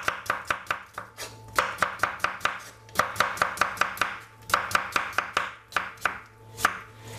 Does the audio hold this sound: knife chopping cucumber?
yes